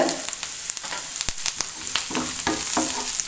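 Green chillies and curry leaves sizzle and crackle steadily in a hot oiled pan, with occasional scrapes and stirring knocks, and no voices over the cooking.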